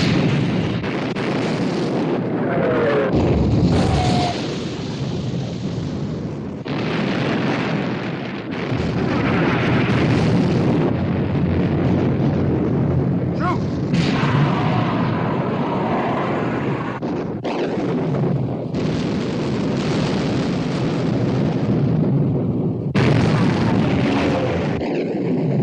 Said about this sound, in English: Prince of Wales and Bismarck exchanging fire.